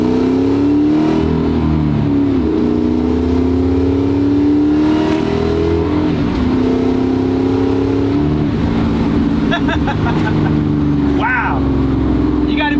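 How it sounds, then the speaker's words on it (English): Inside a 1965 Chevrolet Malibu SS with a supercharged LT4 engine, a loud, steady engine drone climbs in pitch under acceleration, dips at shifts and climbs again, with a voice talking over it toward the end. "You gotta be quick with your shifts when you're in this car, because oh boy, it's a fast one."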